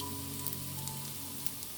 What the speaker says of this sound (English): You see it's sizzling.